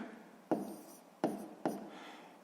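Pen writing numbers on paper: three quiet, close strokes or taps, each followed by a short scratch, with no talk.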